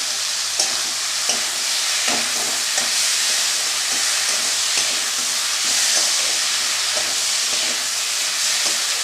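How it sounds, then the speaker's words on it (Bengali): Young bean seeds being sautéed in a pan with potatoes, a steady close sizzle and hiss of frying throughout with repeated scraping stirs from a spatula. "কচি দানা বলে এভাবে কষায় নিলেই হবে, এর থেকেও জল বেরোয়।"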